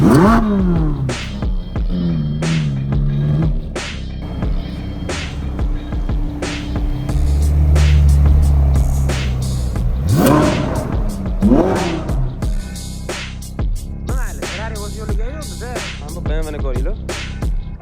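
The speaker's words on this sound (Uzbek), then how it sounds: "BMW M5 Competition Zer Performance tarafdan tuning qilingan mashina" A tuned BMW M5 Competition with work by Zer Performance at an outdoor motor festival, revving loudly in repeated sharp bursts with crowd chatter and a voice talking around it.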